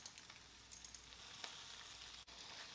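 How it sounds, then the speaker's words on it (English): Butter sizzling in a hot pan with pork chop drippings over medium-low heat, a faint steady hiss and crackle with small pops, close and quiet, no talking. "I'm going to add some butter, about 2 tablespoons."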